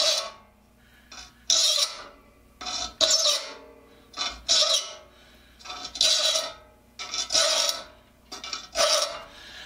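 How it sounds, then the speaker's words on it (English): A hand file rasps across saw teeth held straight across, shaping a worn saw; long rhythmic strokes repeat about every second, close and clear with short pauses between passes. "And I'm filing these straight across."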